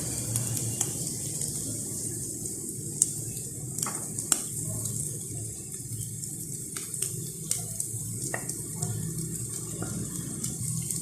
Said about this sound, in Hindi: मीडियम फ्लेम पे भूनें इसे।